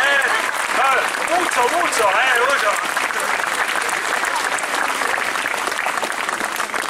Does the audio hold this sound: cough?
no